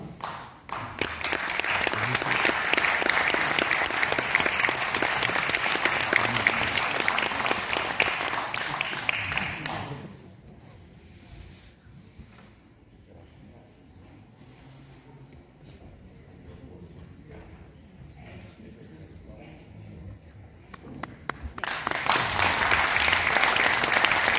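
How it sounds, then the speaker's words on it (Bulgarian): Sustained audience applause at a centenary ceremony for an Armenian church fills the hall for about ten seconds, drops to quiet room murmur, then swells into full clapping again near the end. "Нека всички отличени отново да получат вашите аплодисменти за тяхната отдаденост"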